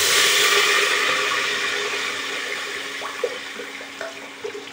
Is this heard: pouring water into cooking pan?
yes